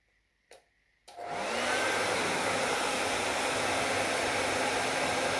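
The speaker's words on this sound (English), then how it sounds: "But what if I turn the hairdryer on?" A hair dryer clicks on after a couple of brief taps and then blows with a steady, loud whooshing roar that continues to the end.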